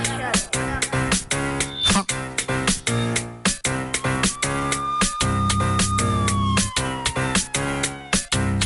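A wailing siren sound effect within soca music at a live performance stage, its rising and falling tone sliding over a pounding, steady beat and bright rhythmic hits, loud and up front.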